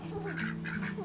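Honking quacks from domestic backyard ducks kept for eggs, a few nasal calls in quick succession over a steady low background hum, moderately close.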